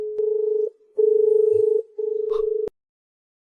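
Ringback tone of an unanswered phone call, three long steady beeps separated by short gaps, loud and clean, then silence and a small click at the end.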